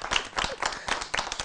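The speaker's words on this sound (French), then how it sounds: "On va s'applaudir, non?" A television studio audience on a morning show gives a brief round of applause, the hand claps quick, dense and lively throughout.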